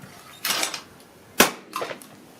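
Two sharp shotgun reports from a Remington 11-87 Sportsman 20 gauge firing at clay targets outdoors, each a loud crack with a brief tail, the second punchier, followed by fainter impacts.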